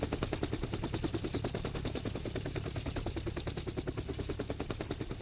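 Rapid automatic gunfire from a gun in the video game DayZ, a dense, fast, evenly spaced burst of shots that runs loud and unbroken throughout.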